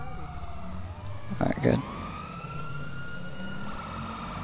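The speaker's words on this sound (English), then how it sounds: "My sirens are already on." A video game police siren wails and sweeps steadily in the background while a voice speaks briefly over it, the tone rising and falling continuously.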